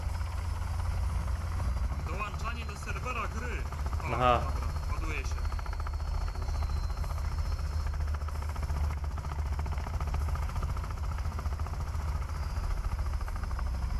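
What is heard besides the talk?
helicopter flying in video game Sons of the Forest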